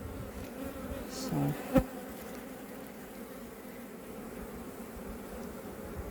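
Honey bees buzz at the hive during a hive inspection, a soft steady hum with a brief louder buzz near one bee, and a voice briefly speaks.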